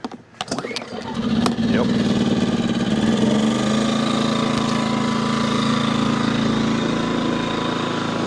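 Portable gasoline generator fires up after the choke is set, with a few clanks and pulls before the small engine catches and settles into a steady, fairly loud running drone.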